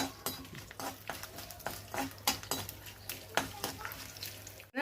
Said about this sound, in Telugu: జీలకర్ర, కొంచెం మెంతులు, ఎండుమిరపకాయలు, మినపప్పు, కొంచెం వెల్లుల్లిపాయలు ఇవి వేసుకొని తాలింపు వేయాలి